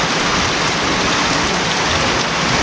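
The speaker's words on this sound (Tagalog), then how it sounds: "Simula kanina hindi tumitigil yung ulan." Heavy rain pours down steadily near a dike construction site awaiting roofing, a dense, loud, even hiss of falling water with no pauses.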